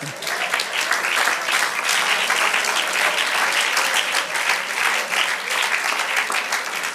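A church congregation at a Spanish-language sermon breaks into sustained applause, a thick, continuous patter of many hands that holds at full strength for several seconds, with only faint voices beneath it.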